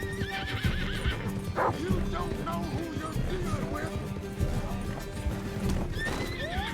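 In the Red Dead Redemption 2 video game, a horse neighs and whinnies several times while hooves clip-clop steadily, heard together with game ambience and low background noise.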